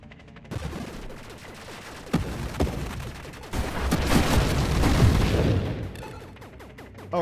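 Explosions and rapid weapon fire from the space shooter game Nova Drift, built with a high-explosive, wider-blast loadout. The bursts pile into a dense, loud barrage that swells toward the middle and end, with no talking over it.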